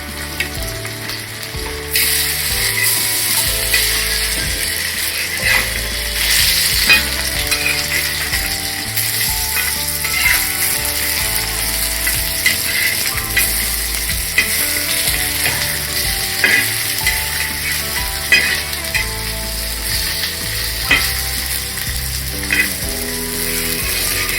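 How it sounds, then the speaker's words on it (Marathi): Colocasia leaf rolls filled with tiny prawns roast crisp in a hot pan, sizzling loudly and steadily with crackles, ticks and scraping from turning them. "आपण दोन्ही साईडनी मस्त खरपूस करून भाजून घेऊया."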